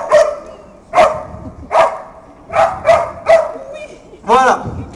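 A firefighter search dog in training with the Aulnay-sous-Bois fire brigade barks about seven times in sharp, evenly spaced bursts, loud and close, with people talking quietly between the barks.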